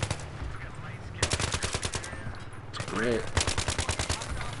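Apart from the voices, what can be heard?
gunfire in the video game Battlefield 3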